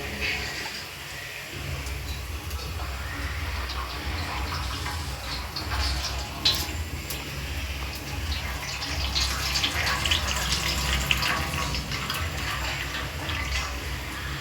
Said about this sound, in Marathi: कांदा लाल होतोपर्यंत आपण मसूरमधलं पाणी काढून घेऊ.